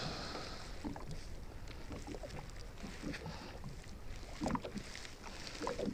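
Wind gusting outdoors on the water from a small boat, steady broadband rushing with microphone buffeting and occasional faint water lapping, no talk.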